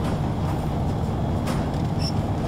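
A train rolls along in the video game Crysis Warhead, a steady low rumble of rail noise that holds constant throughout without talk.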